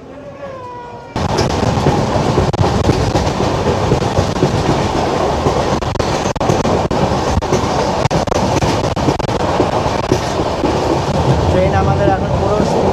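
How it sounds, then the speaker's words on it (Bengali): Puri Kamakhya Express, train 15643, runs at full speed of about 90 to 110 km/h. After a brief quieter start, a loud, steady rumble and rattling clatter of the wheels continues without a break. "ট্রেন আমাদের এখন পুরো স্পিডে চলছে, মোটামুটি 90, 100, 110 এরকম স্পিডে চলছে।"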